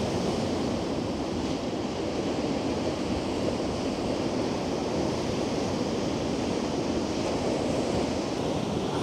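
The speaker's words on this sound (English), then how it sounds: "it's fantastic just listening to the waves" Ocean waves roll in on a stormy, windy shore along a sea wall at Cleveleys during Storm Bert, a steady loud roar of surf with wind buffeting the microphone throughout.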